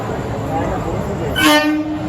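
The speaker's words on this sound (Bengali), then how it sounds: "ট্রেন ঢুকে গেছে" The 15721 Paharia Express pulls into a station platform at night with a close, steady rumble and a loud horn blast near the end.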